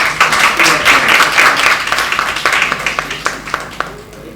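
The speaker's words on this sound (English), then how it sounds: "Give a big round of applause." An audience claps at a World Entrepreneurship event, a dense patter of many hands that is loud and close at first, then thins into scattered, sharper claps toward the end.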